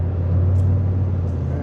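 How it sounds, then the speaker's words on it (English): A car's V8 engine misfiring on some cylinders while climbing uphill in a lower gear, a loud, steady low rumble with a faintly uneven sputter, heard up close from inside. "Do you hear that, folks? Do you feel that? Kind of sputtering."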